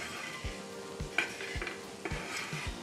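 Whole cumin seeds roasting dry in a pan, with repeated soft scraping strokes of a spatula roughly every half second over a light, crackling background and occasional metallic clinks, nearby and alone.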